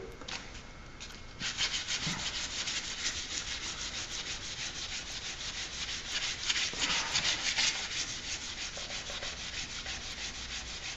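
A 1911 pistol hammer held flat and rubbed across sandpaper, close-up rhythmic scratchy strokes repeating steadily and fairly quietly, with no talking.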